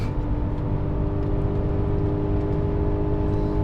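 Steady interior drone of an Audi A6 C6 3.2 FSI Quattro with 328,000 km, climbing a hill in third gear at speed, road and wind rush blending with engine hum in a constant, loud, unbroken roar.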